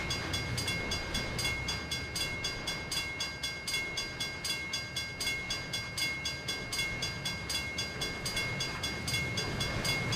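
A freight train of box cars, foil cars and bulkhead cars rolls past in the railroad game Trainz 2022, with steady rhythmic wheel clacks over rail joints and a constant tonal rumble, fairly close and without talk.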